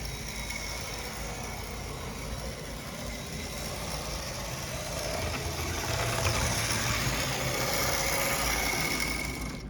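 A model train locomotive motor runs at full throttle with a continuous, even whir and hum that grows slightly louder partway through, heard up close with no voices.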